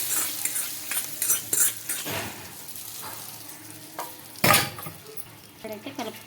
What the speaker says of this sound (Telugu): పోపంతా బాగా వేగిన తర్వాత అయితే ఇంకా పచ్చడిలోకి అయితే వేసుకోవాలండి